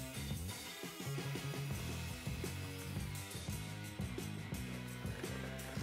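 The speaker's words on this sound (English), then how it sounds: "used a belt sander to sneak up to the line." A belt sander works wood in a woodworking shop, a steady buzzing grind with rhythmic pulses as it is pushed back and forth, fairly close and alone.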